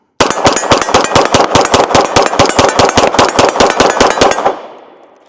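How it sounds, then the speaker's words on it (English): An Atlas Titan pistol fires range ammunition in a rapid, evenly spaced string of about eighteen loud, close shots. The last shot trails off into a fading echo, and no voices are heard. "So let's go ahead and take a few more shots."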